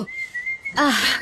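A single close sneeze bursts out after a thin whistle-like tone, short and sharp, in a quiet indoor room.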